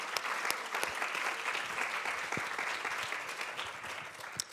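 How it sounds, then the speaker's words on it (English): Event audience applauding sponsors at a live community gathering, a steady dense wash of clapping from a crowd, moderately distant and sustained throughout without speech. "Let's give them a round of applause."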